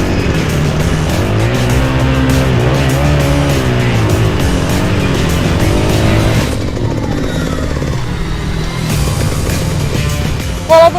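Motorcycle ridden along a slippery track, its engine droning loud and steady throughout, with the tone shifting and easing partway through and a brief sharp burst at the very end.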